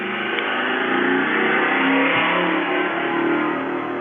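A car engine revving hard as the car speeds up, a loud sustained roar that holds steady throughout with no talk over it.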